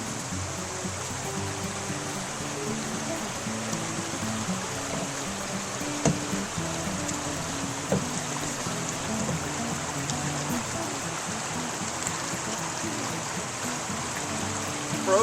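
Steady, broadband rush of flowing creek water, continuous and fairly close, with a few faint clicks but no voices, near a bridge at Cerro Gordo in winter.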